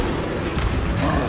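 A Confringo spell blasts in Hogwarts Legacy, a loud, dense burst of rumbling explosive noise that swells midway and lingers, with a shouted voice mixed in.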